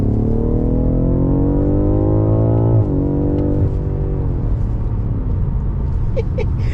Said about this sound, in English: It pulls so hard. This thing is BMW.